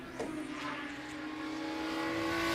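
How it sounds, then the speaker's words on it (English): A loud race car at Road Atlanta during an endurance road race, its steady engine drone building in volume as it approaches and passes close by, with no talk. "That's a loud car."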